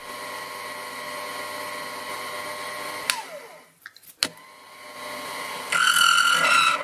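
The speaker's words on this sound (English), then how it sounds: "The end mill sounded very noisy at first, but I discovered it made a lot less noise if I kept a fairly consistent vertical feed pressure on the cutter." Steady high whine of a Proxxon milling machine with an end mill cutting, breaking off briefly with a couple of sharp clicks, then resuming louder with harsher, noisier chatter.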